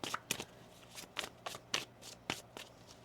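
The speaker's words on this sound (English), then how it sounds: "One more shuffle here." Tarot cards being shuffled by hand in a series of about eight quick, crisp riffling bursts at an uneven rhythm, close and fairly quiet, with no talking.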